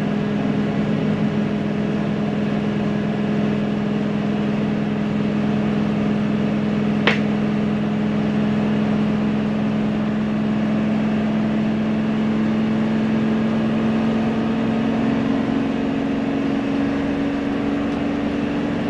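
A 2016 Thor Challenger 37LX Class A gas motorhome with a 362 HP engine climbs a hill under load. A steady droning engine hum rises slowly in pitch under constant road noise, with one brief click partway through.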